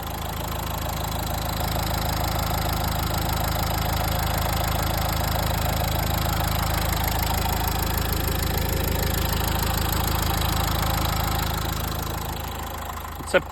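A Nissan Juke with the 1.5 K9K engine and 161,000 km on it idles steadily up close, an even, slightly clattering hum that continues without talk and ends with a single sharp click.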